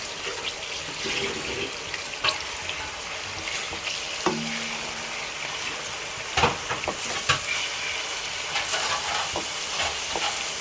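Ginger garlic paste browning in a hot pan over the flame, giving a steady soft sizzle with occasional scrapes and clinks of a spoon stirring, close and alone without talk.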